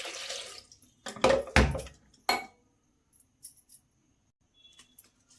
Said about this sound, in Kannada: ಈ ರೀತಿ ಇದಕ್ಕೆ ನೋಡಿಕೊಂಡು ನೀರು ಹಾಕ್ಕೊಳ್ಳಿ.